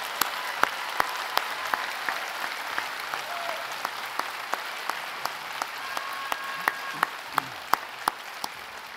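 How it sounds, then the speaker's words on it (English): Audience in a graduation ceremony hall applauds staff from Unitec, a steady sustained wash of clapping from a large crowd with sharp individual claps standing out, no voices over it. "Could you please give a massive round of applause to this incredible group of staff from Unitec?"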